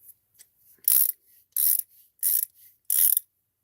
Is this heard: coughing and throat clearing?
no